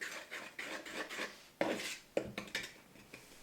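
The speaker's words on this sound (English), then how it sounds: "And now you mix it fully." Banana bread batter being stirred in a bowl, heard as repeated close scraping and rubbing strokes in an uneven rhythm, fairly soft, with no voices.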